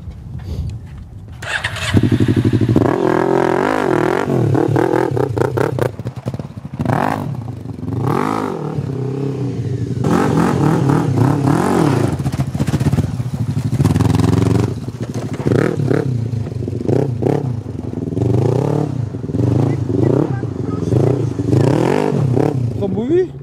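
A Honda CB 500 motorcycle engine sputters to life and idles unevenly while warming up, with revs rising and falling, while people talk over it nearby.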